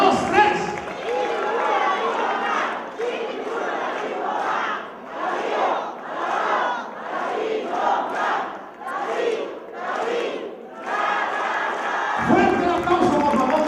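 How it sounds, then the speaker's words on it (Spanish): A crowd at a political event chants a rhythmic cheer in unison, loud pulsing bursts of massed voices repeating in regular waves, ending with louder shouting and applause. "A ver esa porra que se oiga"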